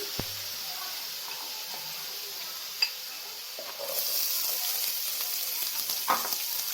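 Small cut potatoes and corn sizzle steadily in a hot pan for a spicy sizzler, with a soft clink of stirring and the frying hiss swelling louder partway through.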